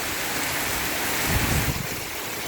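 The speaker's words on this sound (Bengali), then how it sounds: "অনেক বৃষ্টি, মাশাআল্লাহ" Heavy rain pours down in a dense, constant hiss, with a brief low rumble partway through.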